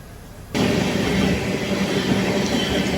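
Kamrup Express running on rails in India, pulled by a diesel locomotive, its steady rolling roar and wheel noise bursting in abruptly after a quiet half second and holding loud and close to the end.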